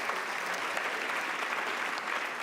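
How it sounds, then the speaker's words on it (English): An audience at a school district honors night claps for high school principals, a thick, continuous roar of applause that stays loud and even from start to finish. "So a round of applause for our high school principals."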